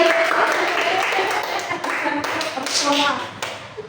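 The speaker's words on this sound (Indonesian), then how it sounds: "Nah, tepuk tangan." Schoolchildren in a classroom clap their hands together in a brief round of busy, overlapping taps, fairly close, with voices mixed in.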